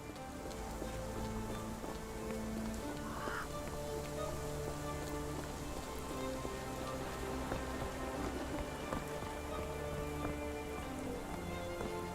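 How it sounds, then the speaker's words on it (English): Steady rain patters on a surface in a detective video game, a dense continuous wash at even loudness with low tonal music-like lines running underneath and no talk. "This dreary rain is making a miserable day even worse."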